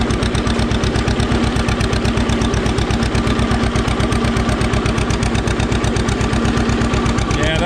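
A 1944 John Deere A tractor engine works hard with a loud, steady, rapid pulsing beat that keeps an even rhythm throughout, close and dominating the scene.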